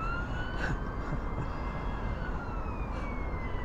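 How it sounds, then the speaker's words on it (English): Distant sirens wail with rising and falling tones over a steady background rumble, no voices present, in Blackpool before the Illuminations switch-on. "I can hear sirens"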